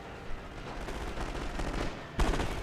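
Submachine gun fire in a World War I era strategy game, a steady crackle of distant automatic bursts and scattered shots with one louder burst near the end.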